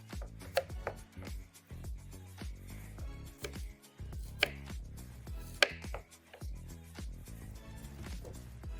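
A knife chops red onions on a board in a rapid, irregular series of close, crisp knocks, heard alone without talking.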